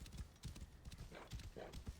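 Horse hooves clip-clopping in a video game, a quick rhythmic trot of repeated thuds heard faintly under a low background bed, with a possible soft whinny.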